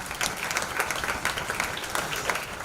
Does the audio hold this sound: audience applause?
yes